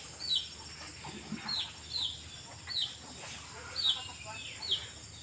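Repeated high, thin chirps from a lone chicken chick seeking its mother hen, about six peeps spaced roughly evenly over rural background noise.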